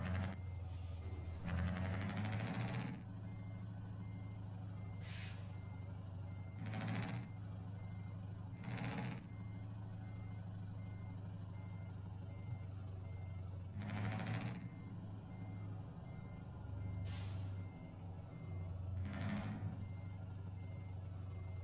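Steady reversing beeps from a truck in Euro Truck Simulator 2, a heavy convoy rig, sound repeatedly at irregular intervals over a constant low engine drone, with occasional brief hissing bursts like air brakes.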